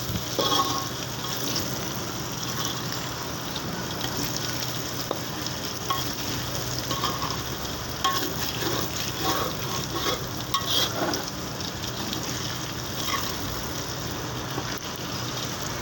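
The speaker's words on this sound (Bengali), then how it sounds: "আলুটা একটু গ্রান কালার করে ভাজা নিব" Potatoes sizzling and crackling in hot oil, a steady close fry with occasional stirring scrapes throughout, no talking.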